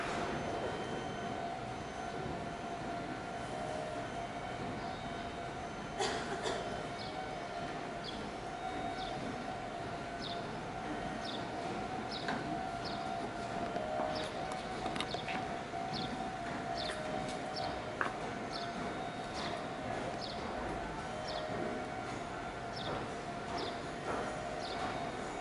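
A train passes at a distance, a faint, steady rumble carrying a sustained tone, with light rhythmic clicking from the wheels over rail joints and no talking.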